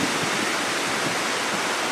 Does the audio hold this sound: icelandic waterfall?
yes